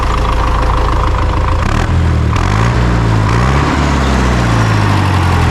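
An MTZ-80 tractor engine runs loud and close, a steady rumbling drone with shifting low tones as the revs change slightly partway through; no voices.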